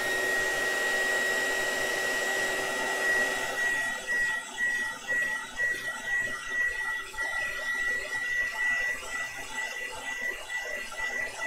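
A hair dryer blows continuously up close while drying a painting, a steady loud whooshing drone with a slight whine that shifts as it moves over the surface.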